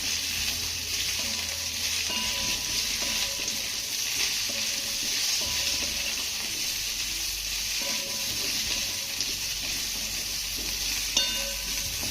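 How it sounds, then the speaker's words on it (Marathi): Dumplings made from fenugreek leaves and sprouted moong sizzle and crackle in a hot oil tempering, with a steady close frying hiss and occasional scraping of a spoon or spatula as they are stirred; no voices. "मुटके आपले फोडणीमध्ये घालून झाल्यानंतर दोन मिनिटं याला छान असं परतून घ्यायचं आहे"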